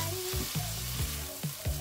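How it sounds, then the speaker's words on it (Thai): Shrimp and squid stir-fried in a hot pan for a Thai spicy seafood stir-fry, loud and close: a steady sizzle broken by repeated scraping strokes of a spatula, with no voices. "ใส่กุ้งลงไปเลยครับ แล้วก็ตามด้วยปลาหมึกครับ ผัดทุกอย่างให้สุกให้หมดเลยครับ"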